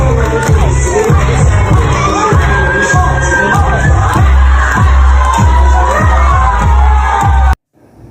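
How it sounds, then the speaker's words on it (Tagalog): A large audience claps and cheers for a dancer performing on stage, with a dense crowd roar running steadily under a pounding rhythmic beat before everything cuts off abruptly near the end. "Sa kanyang pagsayaw, maraming pumapalakpak at nag-cheer sa kanya."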